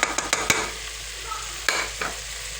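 Green chilies and tamarind pulp sizzle in hot oil as street-style chana chaat is cooked, with soft frying hiss and a few sharp spoon clinks against the pan.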